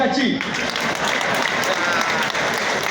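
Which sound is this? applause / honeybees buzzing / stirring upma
applause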